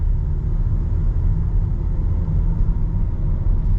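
A 2022 VW Taos front-wheel-drive with an 8-speed torque-converter automatic cruises along a main road, giving a steady, loud low rumble of engine and road noise from inside the cabin with no talking.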